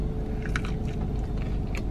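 Someone bites into a spicy Taco Bell burrito with crunchy bits and chews, soft wet squishes and faint crunches close to the mic over a low steady background hum.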